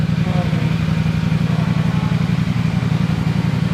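A steady mechanical whir with a low droning hum runs continuously at close range from the cooling fan of an idling 2025 CFMoto 450SR-S motorcycle, even and unbroken throughout.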